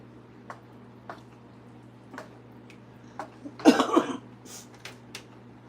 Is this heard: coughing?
yes